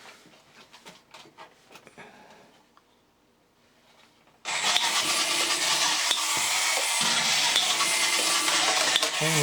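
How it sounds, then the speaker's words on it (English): Scattered faint clicks and handling taps give way midway to a sudden loud, continuous whirring buzz as the motor drives the wheels of a 1959 Yonezawa tin toy satellite tracking station. "Okay, then let's engage the wheels."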